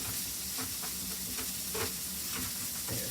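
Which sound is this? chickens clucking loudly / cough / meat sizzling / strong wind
meat sizzling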